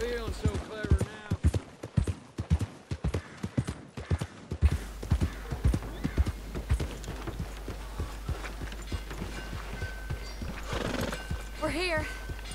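A horse in Red Dead Redemption 2 gameplay gallops with rapid rhythmic hoofbeats, then lets out a clear neighing whinny near the end, the hooves steady and close throughout.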